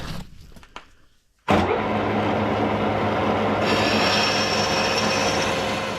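After faint clicks, a drill press motor starts abruptly and runs steadily at a loud, even level for several seconds, its pitch rising slightly partway as the bit cuts holes in a bracket for a Packard 356 engine block.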